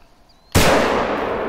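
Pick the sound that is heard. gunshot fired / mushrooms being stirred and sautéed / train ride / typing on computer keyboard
gunshot fired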